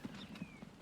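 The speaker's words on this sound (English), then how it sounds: "how many horses are in this world?" Horse hooves clip-clop softly in Transport Fever 2, a few faint, evenly spaced thuds over quiet background.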